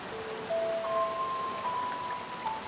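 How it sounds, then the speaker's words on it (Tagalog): Rain falls as a soft, even hiss of steady patter, quiet and continuous, while a faint high whistling tone drifts above it. "umuulan."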